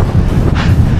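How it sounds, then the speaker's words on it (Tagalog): Strong wind roars across the microphone of a Trek Madone SL 6 Gen 8 road bike during an early-morning training ride, a loud, continuous, buffeting rumble with one brief gust swelling midway. "Ewan ko kung naririnig yung hangin pero grabing lakas."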